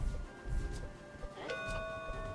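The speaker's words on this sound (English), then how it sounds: "Those little bells are save points, you know, just in case." A small bell chimes at a save point in the video game Super Skelemania, a bright ringing tone with sustained harmonics rising out of a busy, low game background partway through.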